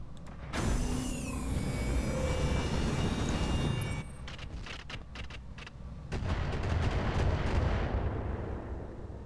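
Mech weapons fire in the video game Roguetech, a BattleTech mod: a loud sustained salvo rumbles first, then a cluster of sharp rapid reports follows, and a heavy roaring barrage builds again at the end.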